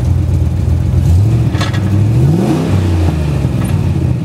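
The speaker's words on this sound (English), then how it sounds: "Okay, wheels are spinning." Holden VK V8 engine revs loudly and steadily while the wheels spin, its pitch rising and falling through several sweeps with a whirring drivetrain tone underneath, close and continuous with no talking.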